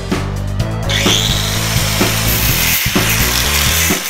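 A blade trims the top edge of a van's interior lining panel, giving close, loud rhythmic rasping strokes with woody scraping and knocks, no voices.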